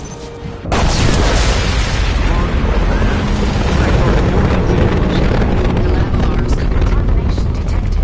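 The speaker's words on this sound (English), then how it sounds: "Impending explosion." An explosion in the Mass Effect 2 video game bursts in abruptly after a brief quiet moment, then becomes a loud, sustained roaring rumble that fills the rest of the clip.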